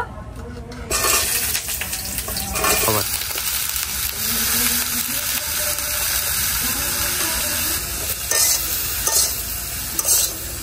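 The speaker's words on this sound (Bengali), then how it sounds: "এগুলা ফার্স্টে আমি বেগুনটা ভাজা নিব" Steady loud sizzling of eggplant frying in hot mustard oil, with occasional stirring scrapes and clinks of a pan throughout.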